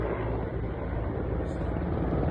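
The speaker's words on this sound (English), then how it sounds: "we were able to see some Mexican army helicopters operating around the area" A Mexican army Mi-17 helicopter flies nearby, giving a loud, steady rotor and engine roar that fills the short stretch without pause.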